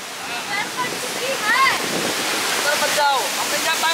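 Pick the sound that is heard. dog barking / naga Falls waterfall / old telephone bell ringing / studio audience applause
naga Falls waterfall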